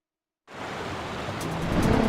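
River water rushes in Zelda: Twilight Princess HD, starting suddenly and then holding as a steady, loud, broad roar of flowing water that swells slightly toward the end, with no talk.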